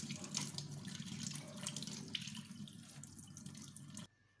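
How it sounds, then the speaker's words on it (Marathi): Raw mangoes rinsed in clean water under a running tap, a steady close splashing stream that stops abruptly near the end, with no talking. "हे कैऱ्या आपल्याला चांगल्या स्वच्छ पाण्याने धुवून घ्यायचे आहे।"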